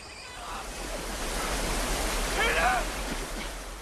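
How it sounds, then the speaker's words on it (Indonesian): A steep waterfall in a film scene, heard as a steady broadband rush of falling water, continuous and fairly distant, with a brief whistling tone partway through. "Is that a waterfall?"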